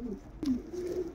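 A pigeon coos softly and close by in two or three low, rounded notes with a faint breathy edge in the pauses.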